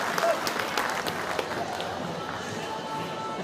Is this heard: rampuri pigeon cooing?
no